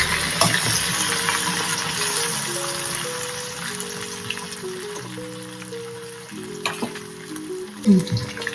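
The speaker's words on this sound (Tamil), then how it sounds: "இப்போ எண்ணெய் காஞ்சிடுச்சு. சிக்கனை போட்டு பொரிச்சு எடுத்துக்கலாம்." Sizzling of chicken frying in hot oil, close and steady, with faint musical tones underneath and a few sharper pops near the end.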